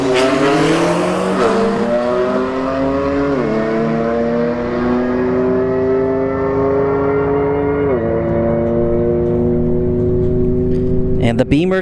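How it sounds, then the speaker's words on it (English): A BMW M4 and an SRT4 Neon drag race side by side at a Bradenton Motorsports Park street drag event. Loud, close engines roar steadily, and the pitch drops sharply at each gear change, with a voice faintly beneath. "And the Beamer takes it at 129 miles an hour, the M4."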